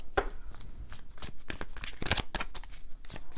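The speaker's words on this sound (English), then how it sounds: "I'm going to grab more cards." Tarot cards shuffled in quick riffling bursts, close and moderately loud, with repeated crisp flicks and taps and no talking.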